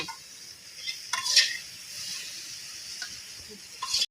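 Fish sizzling in a pan with coriander leaves, stirred with a few scraping knocks of a utensil over a steady low hiss, for a Bangladeshi pangas fish bharta; no voices.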